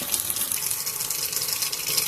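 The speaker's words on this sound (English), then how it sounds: "I'm going to turn on the water and let it run hot until it's nice and steamy" Hot water runs steadily from a kitchen tap into a sink, a continuous close hiss and splash with no talking over it.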